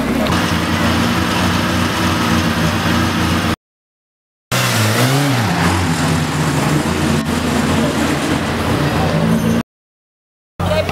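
Car engines drone steadily and loudly with rising revs at the Targa Florio classic car event in Cefalù, broken by a couple of short silences, while voices shout faintly underneath.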